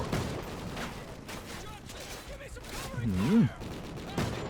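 Gunfire in the video game Call of Duty Ghosts, several sharp shots and bursts spread through the clip under steady battle noise, with synthetic sweeping tones in the middle.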